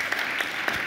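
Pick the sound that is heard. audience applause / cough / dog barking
audience applause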